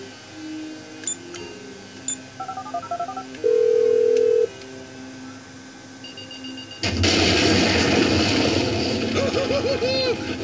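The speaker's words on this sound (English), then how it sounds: "I'm making the call." Touch-tone keypad beeps from a phone being dialed in GTA V on Xbox 360, a run of short tones and one longer held tone, followed by a burst of loud noisy game action.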